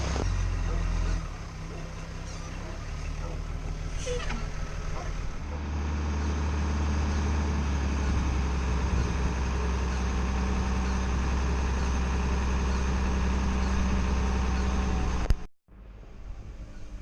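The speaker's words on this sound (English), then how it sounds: "Here's the crane." A crane working over a boat during an engine swap, a steady mechanical engine drone running throughout, close and loud, ending with a sudden clunk and a brief drop to near silence.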